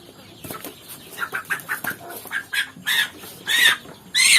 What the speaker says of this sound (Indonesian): Seperti ini ayam calon indukan yang mau kita vaksin.